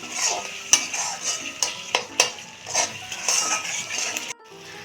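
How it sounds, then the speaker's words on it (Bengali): Tomatoes with salt stirred in a pan on the stove for egg curry, a spoon scraping and clinking against the metal in a steady rhythm of close, distinct strokes with a light sizzle beneath, stopping abruptly near the end. "এখন ভালো করে মিশিয়ে নিচ্ছি"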